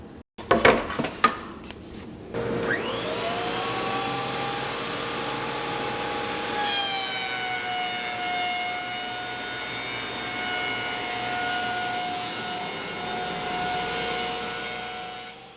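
A Cutech 13-inch portable benchtop planer with a spiral cutterhead runs steadily and loudly after a few sharp knocks at the start, its motor whine holding for the rest of the clip, with a faint shift in pitch as the board passes through.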